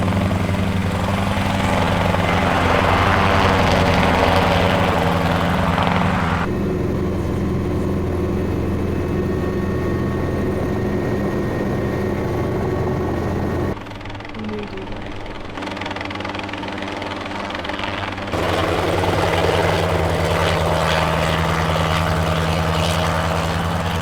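A helicopter flying and coming in to land during a film shoot, a loud continuous rotor and engine roar with a steady droning hum that dips briefly mid-way, then returns full, with faint voices underneath.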